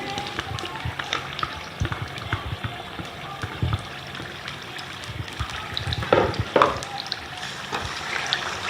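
Makhadi halwa mixture roasts in ghee in a pan, with a soft steady sizzle and occasional scraping as a spoon stirs it continuously, close by.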